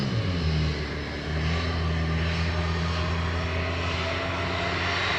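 Frontier Flight 51 airliner at Sangster International Airport in Montego Bay, Jamaica, a loud steady engine roar with a falling whine near the start, sustained close by without talk.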